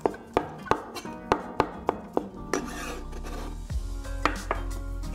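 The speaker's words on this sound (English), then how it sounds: "We'll use the same technique to cut our shiitake mushrooms into strips." A knife cuts shiitake mushrooms into strips on a board, giving a run of sharp, evenly spaced chops close by, followed by softer scraping and rustling, with no talk.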